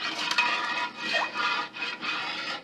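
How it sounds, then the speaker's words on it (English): A metal spatula scrapes and rasps around the bottom of a cast iron pan, loosening stuck residue in several short, gritty strokes with brief pauses between them. "I'm just going around here just taking my spatula there and loosening up everything on it"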